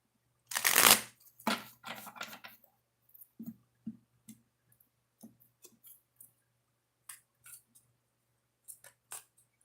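Oracle cards being shuffled: a loud riffling burst up close, then a second shorter shuffle, followed by scattered soft taps and clicks of the cards being handled, with no voices.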